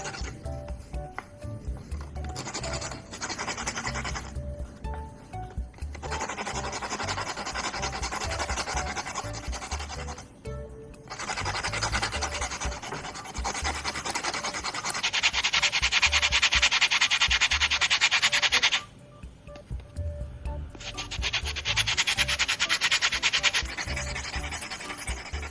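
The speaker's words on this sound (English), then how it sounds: "I'll grind the charcoal down and collect a fine powder" Charcoal being ground down into fine powder, a long stretch of continuous gritty scraping and rubbing with short pauses between passes, close and steady.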